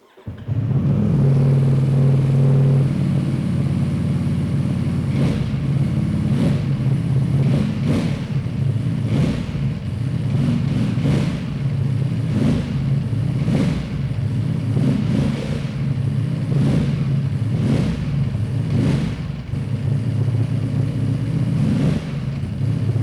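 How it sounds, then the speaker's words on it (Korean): A 2019 Ducati Panigale V4S motorcycle with a slip-on muffler idles loudly, then revs up repeatedly in rhythmic bursts, deep and throaty, close by. "슬리븐 머플러의 배기 사운드 한번 들어보고요"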